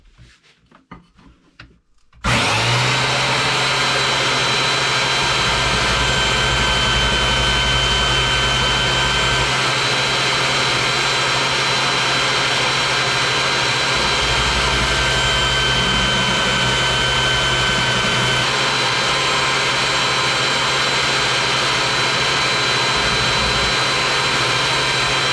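A grinder whines steadily and loudly for most of the stretch, regrinding a steel hunting knife blade, after a quiet start with a few faint handling sounds.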